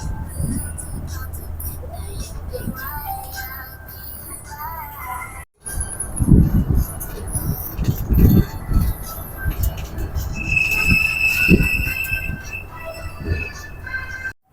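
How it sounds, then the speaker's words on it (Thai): Ride on a tram shuttle heading to Tham Luang cave at Khun Nam Nang Non, with a steady rolling rumble and low thuds from the moving vehicle throughout, interrupted by a brief cut near the middle, plus scattered voices nearby. "นั่งรถรางครับตอนนี้"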